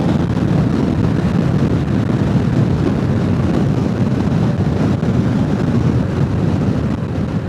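Wind roaring over the microphone while riding a Royal Enfield Classic 350 motorcycle, a loud, constant rushing buffet that masks everything else and never lets up.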